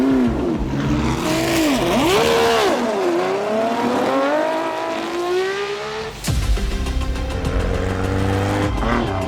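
Classic rally cars racing flat out on a closed-road Tour Auto special stage, engines revving hard with rising and falling pitch through gear changes, tires squealing, and another car roaring past close by.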